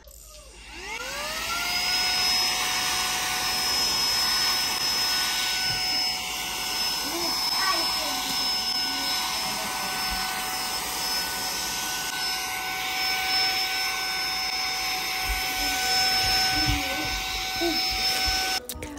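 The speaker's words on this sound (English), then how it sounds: "we're gonna use this to clean off the trim from moving all the furniture" A vacuum cleaner whines steadily and loudly up close as it cleans trim, its motor tone rising at start-up then running continuously, with faint knocks as the nozzle moves along.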